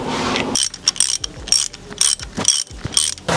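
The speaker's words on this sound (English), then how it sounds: "we're going to plug the bottom two with the standard AN 4B plugs and torque those down" A ratchet torques AN 4B plugs into the back of an RB26 cylinder head, loud close rapid clicking in several short bursts with brief pauses between them, no talking.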